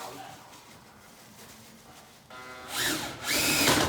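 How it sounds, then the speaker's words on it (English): Power drill spinning a chimney cleaning brush down a flue during DIY chimney cleaning, a quiet whir at first that rises into a louder, rougher buzzing and scraping in two bursts near the end. "Now what I'm going to do is connect the drill"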